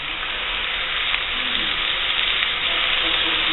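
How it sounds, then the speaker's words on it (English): Turkey meatballs browning in a pan, giving a steady, close sizzle and crackle of frying that holds even throughout, with no talk over it. "You're going to brown these meatballs"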